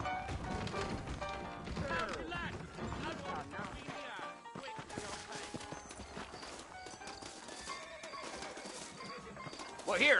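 In a video game, horses whinny and hooves clop amid a busy, dense soundscape, with people talking; a sharp neigh rises near the end.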